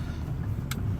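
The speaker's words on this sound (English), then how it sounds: "Oh, I got a car behind me here." A car coming up from behind on a South Englewood street, a brief steady low engine rumble close by.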